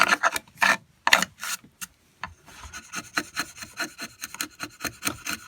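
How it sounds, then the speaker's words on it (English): A very sharp hand chisel paring waste from wood on a small boat build, giving a series of dry scraping, rasping strokes, first a few separate pushes, then quicker, rhythmic short cuts, close by. "Very sharp chisel you need for this"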